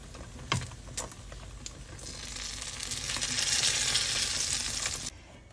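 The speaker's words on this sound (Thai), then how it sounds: "ไข่สุกทั่วแล้วราดน้ำแดงลงไปเลยค่ะ" Red sauce hits a tofu omelette in a hot pan, and a hissing sizzle swells loud and steady for a few seconds after a couple of clinks, then cuts off.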